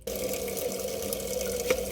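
Water from a sink tap runs steadily through a detail bottle, a continuous close hissing splash lasting about two seconds, with no voices.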